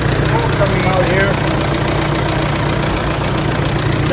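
A Massey Harris 22 tractor engine, long unused and blowing white smoke with moisture in its oil, idles close by in a steady, even, unbroken run from start to finish.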